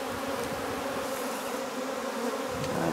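Honeybees crowd a small nuc box, their dense, steady buzz filling the air close up without a break.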